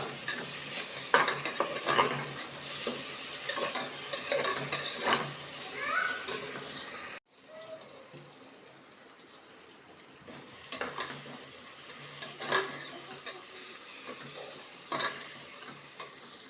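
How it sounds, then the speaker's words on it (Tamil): Tomatoes sizzle in a hot pan while a utensil repeatedly scrapes and stirs, with brief clatters. It pauses briefly, then resumes more quietly. "தக்காளியை நல்லா வதக்கிக்குவோம்."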